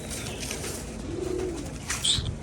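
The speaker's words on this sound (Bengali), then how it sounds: "এই একটা পায়রা দেখুন খাঁচার ভিতর ঢুকে গেছে" Pigeons in a Rajshahi Giribaz pigeon loft give a soft low coo, with a brief higher chirp near the end, over faint background noise.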